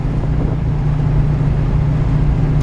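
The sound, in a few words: V8 pickup truck engine running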